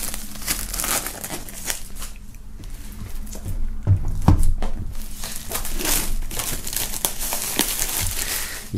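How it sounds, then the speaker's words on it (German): Plastic shrink wrap on a DVD box set is torn open at the seal and peeled off, giving close, continuous crinkling and crackling with sharp rips and a few louder tearing bursts midway, without speech. "am besten öffnen wir das Ganze hier oben an der Schweißnaht. Und dann lässt sich das hier gut abziehen."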